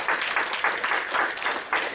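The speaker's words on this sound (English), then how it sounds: "there was more than 16 folks clapping your hands" Audience clapping fills the room in a steady, fairly loud wash with no voices over it, the claps dense and continuous.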